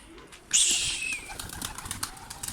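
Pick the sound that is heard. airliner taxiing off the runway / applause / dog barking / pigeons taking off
pigeons taking off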